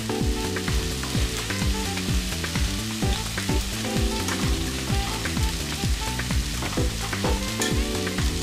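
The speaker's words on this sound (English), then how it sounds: "make it oil take time come out of it" Jamaican fried dumplings frying in hot oil, a loud dense continuous crackle and sizzle with busy bubbling texture over steady low music-like tones, no speech.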